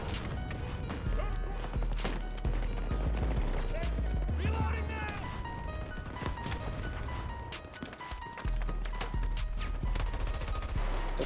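Gunfire in a video game, bursts of rapid shots and scattered stray rounds crackling over a busy game soundscape with footsteps, fairly close and loud throughout.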